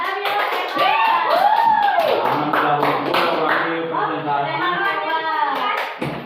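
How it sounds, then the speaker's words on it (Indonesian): Students in an Islamic religious education teacher-training classroom clap briefly for the first presentation group, light scattered handclaps mixed with children's chatter and voices over the clapping. "Tepuk tangan dong buat kelompok pertama."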